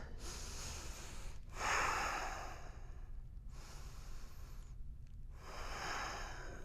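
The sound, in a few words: deep breathing in and out during yoga twist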